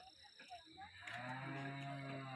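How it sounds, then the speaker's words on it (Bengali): Cows low in a hill village, with a long, deep moo rising clearly after some faint background sounds, near and fairly loud, with no voices. "চারিদিকে গরুর আওয়াজ পাওয়া যাচ্ছে"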